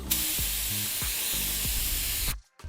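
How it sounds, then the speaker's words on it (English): A spray gun spraying thinners hisses in several short bursts separated by brief pauses, loud and close, with no talking. "pour a little bit of thinners into the gun to make sure the gun's still spraying good"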